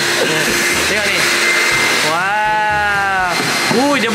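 A giant vacuum cleaner machine roars steadily and loudly throughout, its motor whine rising and shifting in pitch as it works.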